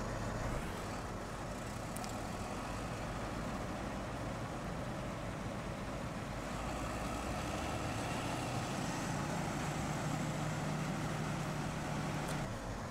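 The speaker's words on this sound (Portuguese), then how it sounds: "você escuta o ronco da máquina acelerando" A John Deere STS 9750 combine harvester engine runs close by as a loud, continuous low rumble that stays steady throughout, with no voices.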